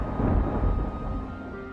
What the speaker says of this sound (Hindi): बिजली कड़कने लगती है